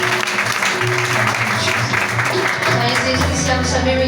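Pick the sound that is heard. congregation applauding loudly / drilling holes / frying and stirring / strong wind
congregation applauding loudly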